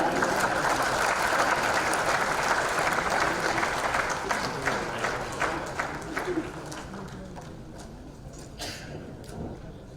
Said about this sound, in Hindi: जोरदार तालियां आप इस वक्त बजाएं।